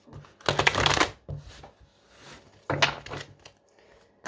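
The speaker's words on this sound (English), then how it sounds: "Let me give these cards a good shuffle." Tarot cards are shuffled in two brisk riffling bursts separated by a pause, close up, with small taps and handling sounds between.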